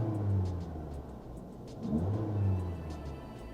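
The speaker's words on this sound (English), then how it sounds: "I'm gonna give it some gas so we can see what that looks like." A car engine revved while connected to a diagnostic scanner, a low mid-pitched rumble that swells twice with throttle blips before settling back toward idle, close and fairly quiet, with no talking.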